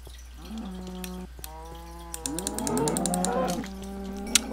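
Cows mooing in the Minecraft video game: several drawn-out, fairly loud game moos follow one another, some overlapping, with faint clicks and ticks in between and no talking.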